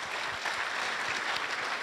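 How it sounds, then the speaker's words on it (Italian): Steady applause from a crowd, a dense even patter of clapping that continues without pause. "era un motivo per fare un altro applauso a Massimo Bevignani"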